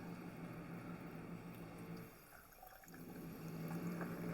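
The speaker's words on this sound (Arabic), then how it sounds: "هنحط ميه غازيه" Soda water poured into a glass while making homemade cola, a continuous fizzy liquid pour that dips briefly midway and then resumes, with no talking.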